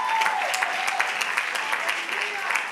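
A church congregation claps along, a steady patter of many hands under a continuous singing or talking voice that carries over the top.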